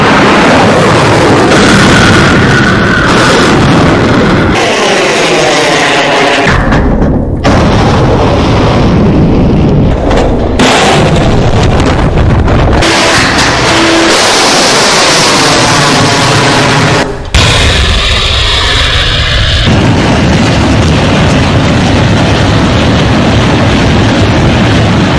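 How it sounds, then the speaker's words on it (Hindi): An S-400 air defence system launches missiles and intercepts them with explosions in the sky. A loud, continuous roaring blast sound with booming bursts runs throughout, with a brief drop near the middle. "जैसे ही पाकिस्तान की कोई मिसाइल आती है इस तरह S-400 मिसाइल दागता है और आसमान में ही पाकिस्तान की मिसाइल को गिरा देता है।"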